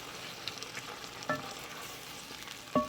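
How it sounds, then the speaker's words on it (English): Goat meat seasoned with salt, pepper and adobo spice simmers in a pot, a soft, quiet sizzle with a couple of sharper clinks and scrapes of a stirring utensil against the pot, no talking. "Nagua is just going to continue stirring for maybe a minute or 2 until everything simmers together"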